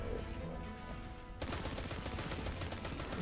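Gunfire from shooting in Destiny 2 forms a dense, continuous barrage of rapid shots that stays loud through the whole stretch and grows harsher and fuller partway in, with no talking over it.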